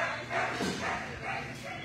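A little adopted dog gives a few short, soft yips and barks in a home, faint and close, with people talking around it.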